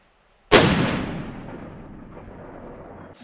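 A long-range rifle fires a single loud, sharp report outdoors, followed by a long rolling echo that slowly fades over several seconds.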